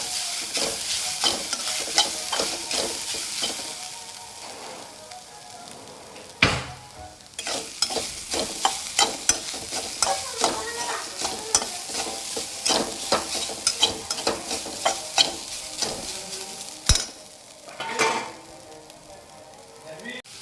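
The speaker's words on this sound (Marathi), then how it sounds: "आता हे व्यवस्थित लाल होईपर्यंत परतून घेऊया" Grated coconut mixture stir-fried in a pan until reddish, with a spatula scraping and stirring in repeated strokes over a constant sizzle, plus a few sharper clanks against the pan.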